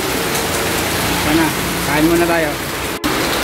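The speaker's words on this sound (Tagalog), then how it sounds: "Ang lakas pa rin ng ulan mga adventure." Heavy rain falling steadily in Taal, Batangas, a dense continuous wash with a faint engine beneath, while someone talks over it.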